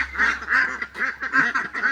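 Local ducks at a market quack in quick repeated bursts, about five or six close, loud nasal calls in a ragged rhythm.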